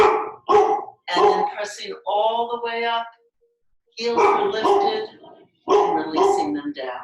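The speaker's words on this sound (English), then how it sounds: "I apologize for my dog barking." A dog barks and whines in the room while a woman calmly gives yoga instructions, the barking mixed in with and partly masked by her voice.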